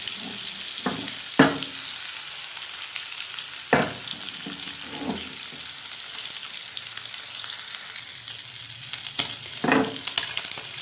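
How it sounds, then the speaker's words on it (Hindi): Chicken tikka boti frying in a pan over a low flame, with a steady close sizzle and a few sharp clinks and scrapes from occasional stirring. "पैन के अंदर रखते जाना है और आंच को थोड़ा आपने हल्का कर देना है और इसको आपने हल्का हल्का सा हिलाते रहना है"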